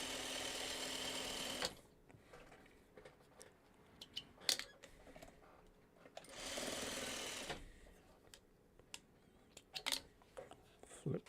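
A sewing machine stitches quilt block pieces in two loud steady runs of about two and five seconds, separated by quieter handling clicks and taps as fabric is flipped.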